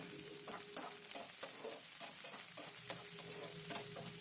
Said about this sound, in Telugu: పచ్చిమిర్చి వేసిన తర్వాత మంచిగా కలియబెట్టాలి